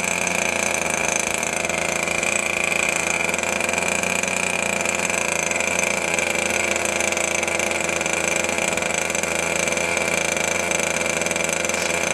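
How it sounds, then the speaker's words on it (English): A model airplane glow engine runs at a steady, high-pitched buzz during a winter flying festival, continuous and loud with no break in tone. "There's our first glow engine start of the day."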